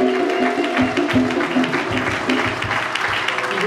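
Church congregation clapping and acclaiming the Lord at a French- and Lingala-speaking service, a steady dense wash of applause with cheering and voices mixed in throughout.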